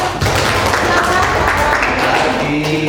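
An audience at a school teachers' gathering applauds in a dense, continuous burst of clapping that stays loud throughout, with voices mixed in.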